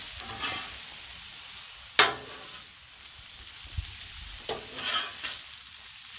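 Beef stir fry sizzles steadily on a Blackstone griddle while a spatula spreads and mixes it, with sharp scrapes and clacks of metal on the flat top cutting through the constant hiss.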